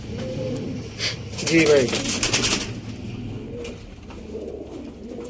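Pigeons from a pair kept by a Sialkot pigeon fancier coo in soft, low bursts, with a short flurry of fluttering in the middle, all heard close by under a voice.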